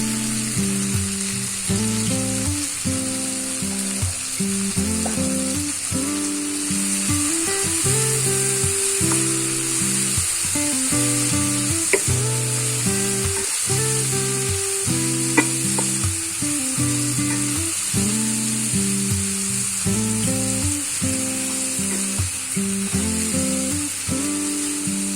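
Tomato masala with coriander powder for a cauliflower and soya chunk curry sizzles steadily and loudly in a pan, with a utensil stirring and scraping repeatedly throughout.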